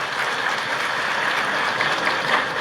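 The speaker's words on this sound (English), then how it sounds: "A big round of applause for that" Steady, dense audience applause at an investment summit in Bangladesh, a continuous wash of clapping from a large crowd that holds at an even loudness throughout.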